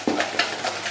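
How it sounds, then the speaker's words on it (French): A whisk beats canelé batter in a bowl with quick, rhythmic strokes, about four distinct swishing scrapes in a second, close and fairly clear. "Je vais le blanchir, hein, je vais le fouetter un petit peu là"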